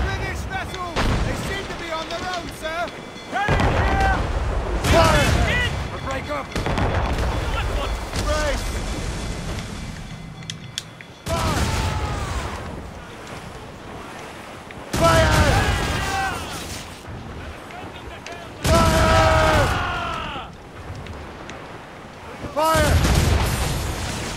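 Sailing-ship cannons firing in Assassin's Creed Rogue, repeated heavy booming broadsides separated by pauses, layered with shouting voices and the wash of ocean waves.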